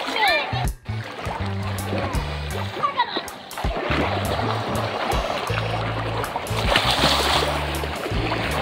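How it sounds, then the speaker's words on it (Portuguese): Children splash each other in a water fight at a water park, with repeated splashes and running water close by, and kids' voices shouting and talking over the top. "A Duda tá fazendo guerra de aguinha, Duda?"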